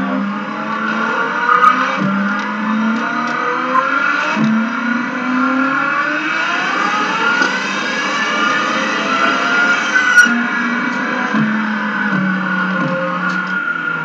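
Car engine revving in a vehicle simulator video game, a steady droning engine tone held at high revs with slight pitch swells, continuous and loud without any talk.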